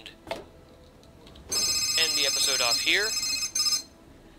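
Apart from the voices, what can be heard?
alarm ringing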